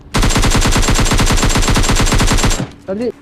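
A rapid automatic-weapon spray in PUBG Mobile, about two dozen evenly spaced sharp shots in a loud sustained burst that cuts off abruptly, followed by a brief snatch of speech.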